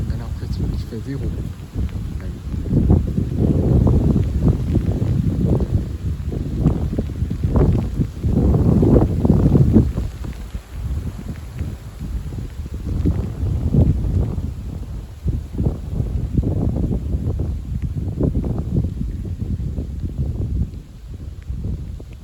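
Gusty evening wind during a spring squall buffets the microphone in uneven surges, roaring louder then easing, with muffled talk mixed under it.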